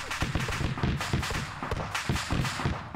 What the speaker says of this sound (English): they're still shooting